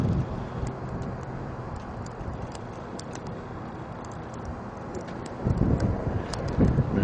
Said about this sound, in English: Now the wind's coming from that direction